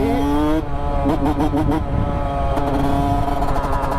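Yamaha YZ125 two-stroke motorcycle revving on a mountain road, loud and close, with a high buzzing engine note that drops, blips through several quick revs, then climbs and holds again.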